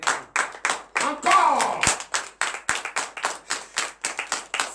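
A church congregation at a morning prayer service claps rhythmically for Jesus, a steady run of loud sharp claps with a voice calling out over them in the middle.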